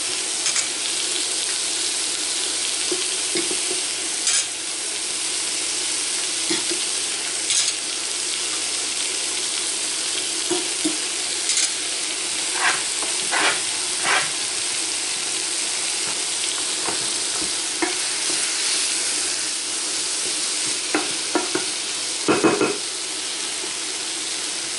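Tomato sauce and spices cook in a pan with a long, even hiss of bubbling and frying, dotted now and then by light clicks and taps of a utensil.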